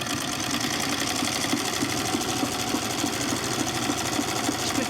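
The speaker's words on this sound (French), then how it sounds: "le bruit du moulin à coudre" A sewing machine runs steadily and close by, its fast mechanical chatter forming an even, unbroken rhythm throughout with no voices over it.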